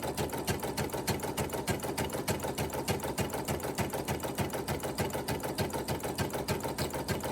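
An embroidery machine sews a dense satin stitch around the edges of a fabric appliqué, its needle hammering in a fast, steady, even rhythm, close and continuous with no talk.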